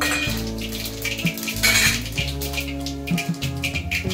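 Cumin seeds dropped into hot oil already popping with mustard seeds, crackling and sizzling close by, broken up by metallic clinks of a spoon against the pan.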